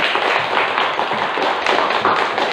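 A classroom group claps together in a steady, dense burst of hand claps that fills the whole moment, fairly close and loud with no talk over it.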